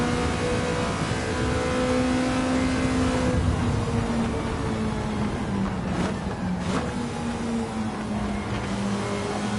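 Ferrari Mondial engine driven in Gran Turismo 7, a continuous loud droning whine with a steady pitch that dips and shifts slightly as the car corners, heard alone throughout.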